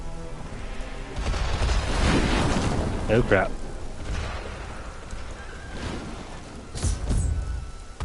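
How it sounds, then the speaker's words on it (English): Fireballs rain down on a city in the Diablo III video game, a dense rumbling barrage of impacts and crackling bursts swelling and fading, loud and close, with a voice speaking briefly over it. "Belial is raining fire down on the city in a desperate attempt to kill us."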